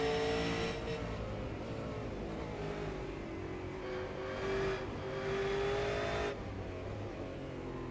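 V8 Supercars race cars at Road Atlanta roar past in quick succession, engines revving and shifting through gears, loud and close with the pitch rising and falling as they pass.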